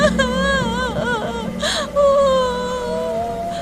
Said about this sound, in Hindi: उसी वक्त किसी की रोने की आवाज उसके कानों तक पहुँचती है।